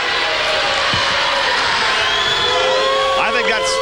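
Roller derby crowd in an arena cheering, whooping and shouting in a loud, steady roar, with a few individual yells standing out near the end.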